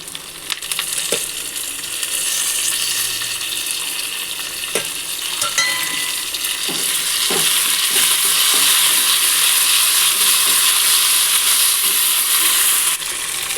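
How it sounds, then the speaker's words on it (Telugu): Curry leaves and dried red chillies hit hot oil for a tempering, with a few clinks of a spoon at first and then a loud, crackling sizzle that swells and holds steady. "కొద్దిగా ఫ్రై చేద్దాం. తర్వాత కరివేపాకు, ఎండుమిర్చి,"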